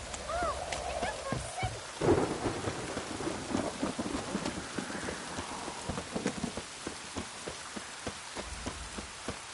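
Heavy rain pours down during a thunderstorm in the video game The Witcher 3, a dense steady hiss with sharp drops and a thunder crack near the start, while a voice speaks briefly under the downpour.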